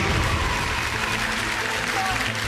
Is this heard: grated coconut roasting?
no